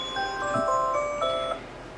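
An electronic alarm chiming with several bright, sustained tones, ringing close and then fading near the end.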